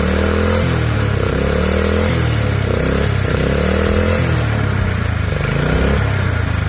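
A small engine on a homemade drift trike, fitted with a makeshift throttle, revs up and down repeatedly, loud and close, its buzzy rising and falling pitch over a constant rattly drone.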